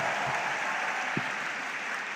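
Steady applause from a crowd fills the whole moment, an even wash of clapping at moderate volume with no voices over it.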